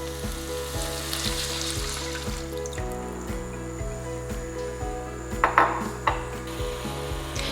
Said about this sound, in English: time to add 300 milliliters of water